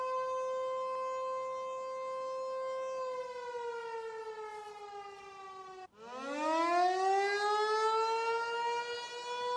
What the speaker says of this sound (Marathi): जम्मूमधील विविध भागामध्ये सायरनचे आवाज देखील आता ऐकायला येत आहेत